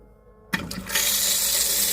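Water gushes from a tap into a melamine sink in a motorhome, driven by an electric pump; a few clicks and splutters come first, then a steady, loud hissing flow that continues to the end.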